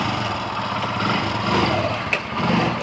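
A motorcycle engine idles with a steady, close rumble, holding a continuous level throughout with a small knock near the end and no talking over it.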